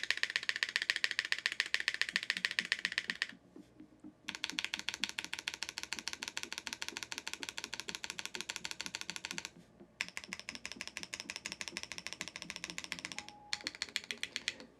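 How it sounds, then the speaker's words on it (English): Typing on a Space 80 Apollo tenkeyless mechanical keyboard fitted with Gateron Oil Kings switches: dense, steady, close clacking keystrokes in long runs, broken by two brief pauses and a few deeper space bar thumps. "let's just do another typing test"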